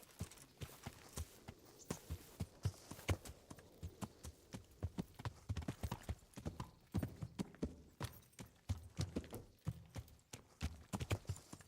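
Steady clip-clop of horse hooves walking on a hard surface, a continuous rhythmic beat of sharp knocks close by, with no talking.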